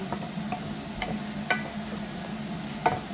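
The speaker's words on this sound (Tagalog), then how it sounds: "I-prepare na po yung chicken. Ayan. Gawin natin ng brown." Chicken pieces browning in a pan for Filipino chicken afritada, a steady low sizzle with occasional faint stirring clicks and taps, moderately close and without talk.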